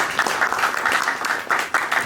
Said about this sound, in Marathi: रवी प्रकाश यांच्यासाठी एकदा जोरात टाळ्या वाजवूया